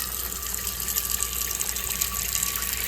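Lukewarm tap water runs steadily into a sink for washing an antique item, a continuous broadband gush with no talking over it.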